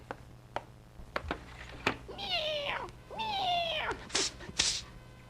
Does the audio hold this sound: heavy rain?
no